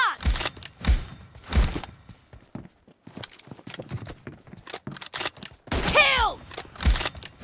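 Gunfire in a shooting video game, with sharp shots fired in quick bursts and single cracks spread across the stretch, one with a ringing whine, close and punchy.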